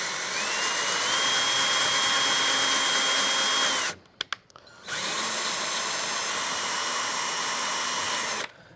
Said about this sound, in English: you want to put your drill on the lowest setting just so you don't grind up the threads